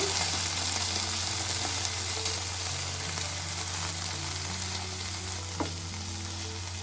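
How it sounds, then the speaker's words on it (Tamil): Marinated paneer roasting in hot oil in a pan for a smoky paneer side dish, a steady, even sizzle close by with a faint clink near the end and no speech. "இப்போ இதில் நம்ம ஊற வச்ச பன்னீர் சேர்த்து நமக்கு நல்லா 2 பக்கமும் நல்லா ரோஸ்ட் ஆகிற மாதிரி ஒரு 5 நிமிஷம் விட்டு எடுத்துடலாம்."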